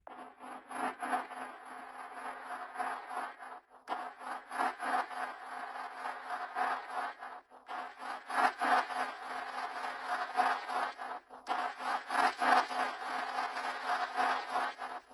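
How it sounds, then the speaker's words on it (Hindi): A sonified recording of the Sun: a steady, buzzing electronic drone with a pulsing, grainy texture, continuing with a few brief dips throughout. "हमारे सोलर सिस्टम के केंद्र सूर्य की आवाज।"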